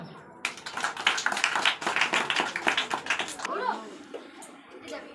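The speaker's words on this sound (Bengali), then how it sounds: "ওর জন্য একটা হাততালি" A class claps for a student in a burst of close applause that lasts about three seconds. It stops abruptly, and then a voice and other talk follow.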